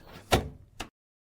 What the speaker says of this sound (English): Close the drawer again and check